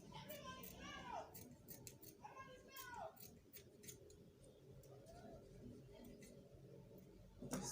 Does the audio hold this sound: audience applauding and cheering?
no